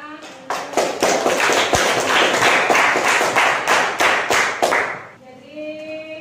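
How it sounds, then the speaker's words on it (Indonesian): Classroom students clapping hands together in a mathematics lesson, a loud rhythmic patterned clap with sharp beats lasting several seconds, then stopping abruptly before a voice begins. "Sekarang kita kasih tepuk tangan."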